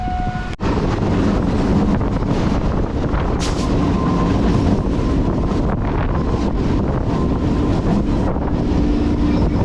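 A passenger train on the Bongaon–Krishnanagar line, heard from aboard as a steady loud rumble and rattle of wheels with wind buffeting the microphone and a sharp clank near the start.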